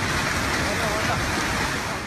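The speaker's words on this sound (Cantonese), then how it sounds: "喺東部嘅宜蘭，狂風暴雨幾乎成日都冇停過" Heavy storm rain lashes down in Yilan, Taiwan, a dense, loud and unbroken roar of rain and wind with no pause.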